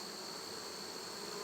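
Honey bees buzzing over an opened beehive frame of capped brood, eggs and young larvae, a dense, steady close-up hum filling the whole moment without talk.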